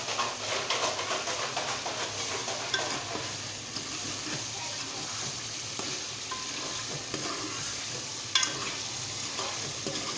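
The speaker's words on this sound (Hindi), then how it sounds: "तो फ्रेंड्स ये देखें हमारा मसाला भुन चुका है और इसमें मैं टिंडे डाल रही हूँ।" Ridge gourd pieces go into roasted masala with mutton in a pan, producing a continuous sizzle with stirring scrapes and a metallic clink, while birds call faintly in the background.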